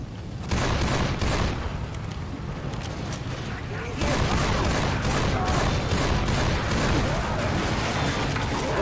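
Dense, continuous gunfire in the zombie video game Left 4 Dead, loud overlapping shots and automatic bursts throughout, intensifying midway, with players' voices faintly under the shooting.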